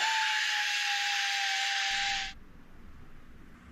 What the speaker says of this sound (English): Little Scotch-Brite pad.